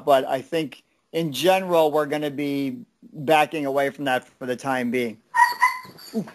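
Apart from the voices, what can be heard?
dog whimpering and barking under a chair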